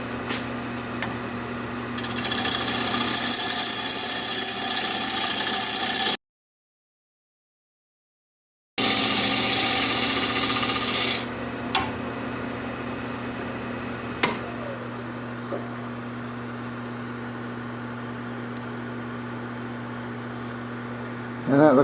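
Wood lathe at 900 RPM turning a natural-edge alder bowl with a freshly sharpened gouge, a steady loud hum with bright shaving and cutting noise that stops abruptly, resumes, then fades to the motor's lower drone.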